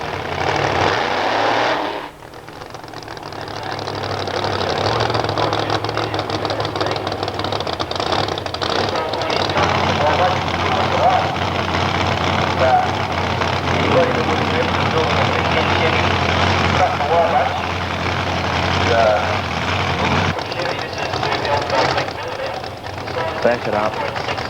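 A drag racing car engine runs loud and steady through a dry launch after traction compound has been put on the track, a sustained buzzing roar with a voice talking over it.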